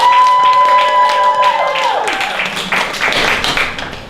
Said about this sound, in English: you are going to vote by round of applause for your favorite contestant